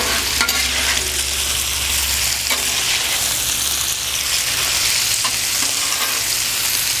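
Marinated steak fajitas hiss and sizzle on a hot Blackstone flat-top griddle, a constant loud frying roar broken by a few scraping strokes of a spatula stirring the meat and vegetables, with no voices.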